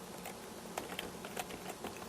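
Keys clatter on a computer keyboard in a quick, uneven burst of clicks, close but quiet, with no talk.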